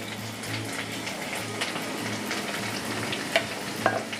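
Curd goes into a sizzling Moghlai chicken handi and is stirred in, giving a steady close frying hiss with soft scraping and a couple of small pops near the end.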